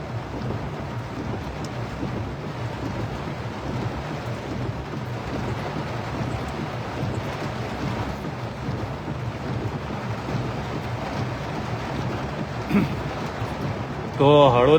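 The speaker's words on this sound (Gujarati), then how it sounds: "શહેરમાં અત્યારે વરસાદની સટાસટી બોલી રહી છે" Heavy rain pours down on Halvad, Gujarat, in a constant dense hiss with gusty rumbling, and a voice cuts in briefly near the end.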